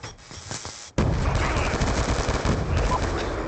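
Black Ops 2 gunfire arrives after a quieter opening as a sudden loud eruption of sustained automatic shooting, dense and close, continuing unbroken to the end.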